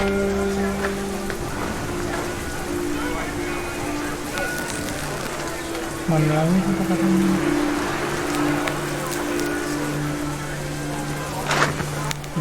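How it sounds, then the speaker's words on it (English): Heavy rain falls steadily in What Remains of Edith Finch, a constant patter on surfaces under a low game tone, with a voice speaking briefly over it. "The rain came down in buckets then"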